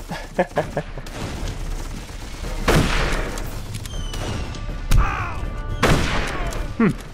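Rifle volleys and a bayonet charge on a historical battlefield in the video game Darkest of Days, with Russian rifles, sharp gunshot bursts and booms standing out over a steady din of combat noise.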